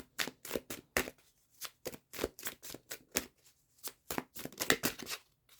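Tarot cards being shuffled and drawn by hand, a rapid series of crisp riffling and flicking bursts in an irregular rhythm, close and fairly quiet, with no voice.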